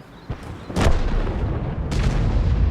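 A Grille self-propelled artillery gun fires in World of Tanks, two sharp, loud cannon reports about a second apart, each followed by a rolling low rumble.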